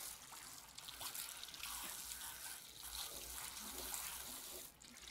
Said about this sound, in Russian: попыталась чуть сильнее закрутить кран. Оно как хлынет.